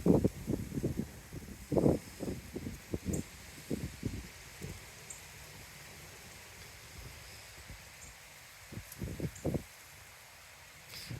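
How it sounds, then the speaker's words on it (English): Wind blows outdoors in irregular gusts that buffet with low rushing bursts, strongest at the start and again near the end, with calmer, quieter stretches between. "Just realizing how windy it is and how that might not be ideal."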